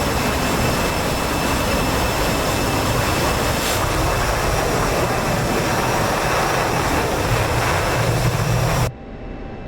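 An F-16 jet engine in the DCS World flight simulator roars as a steady, loud, broadband drone with a faint high whine on top. It holds at full level throughout, then drops sharply just before the end.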